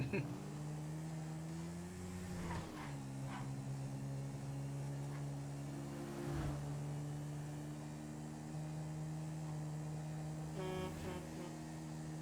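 A Yamaha YZ250F dirt bike engine in the video game GTA V drones steadily with small pitch shifts and a brief rev midway, someone talking over it.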